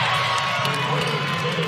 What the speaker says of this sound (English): with a lot of people in the stands cheering for her